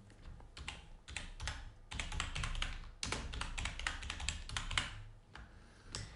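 Quick, irregular keystrokes clatter on a computer keyboard as a channel name is entered, a steady close run of taps with brief pauses between bursts.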